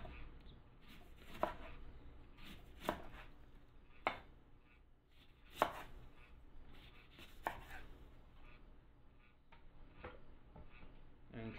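A knife chops lemons with the rinds on into smaller pieces for a blender, about six distinct, evenly spaced thuds on a board, close but quiet.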